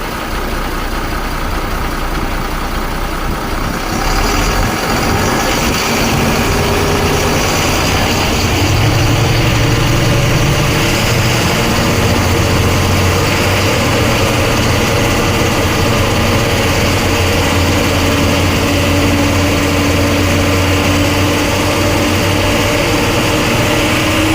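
A diesel engine of a 2019 Tata 3518 BS4 twelve-wheel lorry runs loudly nearby, first idling with a heavy low rumble, then revving up and settling into a steady drone.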